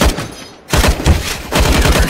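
Rapid bursts of gunfire in a first-person shooter game, loud clustered shots in two volleys separated by a brief quiet gap.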